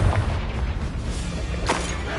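In a Harry Potter video game, a Confringo blasting spell erupts in a dull, rumbling boom, with a sharper burst near the end over a low, continuous background roar.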